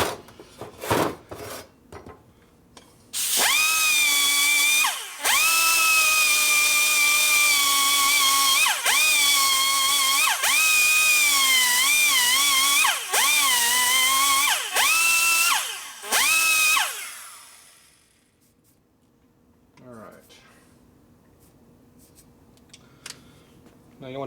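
Valve seat cutter grinding a Harley-Davidson Sportster 1200 cylinder head, a sustained high whining grind in several bursts with short pauses, followed by quieter bench clatter and faint handling noises.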